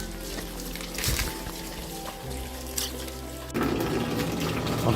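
Water rushes into a tank from a newly installed pump line after a valve is switched, a steady near gush over a low pump hum that grows louder partway through.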